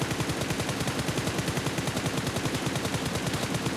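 Automatic gunfire in PUBG Mobile, a rapid, even stream of shots hammering away nonstop, loud and close, with no voices over it.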